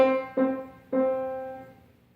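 A pitched instrument playing a 2/4 rhythm with strong and weak beat emphasis. Three ringing notes sound alone in a quiet room, each decaying slowly into the next.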